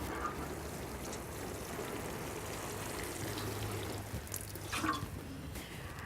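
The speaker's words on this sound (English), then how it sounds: "So once you've got that 4 inches in, you just pat that down, water that in." Potatoes planted in a patio bag are watered in, giving a soft, continuous trickle and splash of water on soil that runs throughout at a fairly quiet, even level without any voices.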